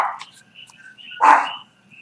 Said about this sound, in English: Sorry about that dog.